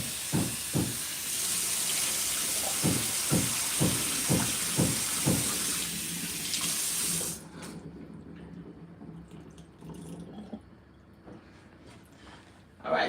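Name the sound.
rinsing garlic and onion under running water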